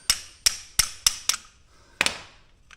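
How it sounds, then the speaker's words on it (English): A small hammer strikes metal five times in quick succession, then once more after a pause, each hit sharp and ringing, while fixing a rear clunk on a Polaris Ranger. "I got a little hammer here to help me."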